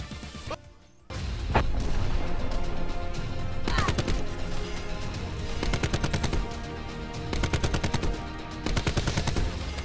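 Rapid automatic gunfire in Black Ops 4 rattles in loud, dense bursts, separated by short pauses, with a few heavier impacts mixed in.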